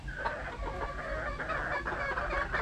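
Chickens cluck in a steady, dense chorus on a poultry farm with young pullets ready to breed, overlapping calls close and moderately loud with no talking.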